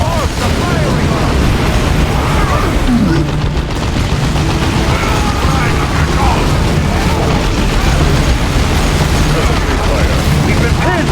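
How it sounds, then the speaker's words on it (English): Ork gunfire and explosions in the strategy game Warhammer 40,000: Dawn of War 2: a loud, continuous barrage of rapid shots and booming blasts filling the scene, with soldier voices shouting over the fighting. "Orcs are firing on us!"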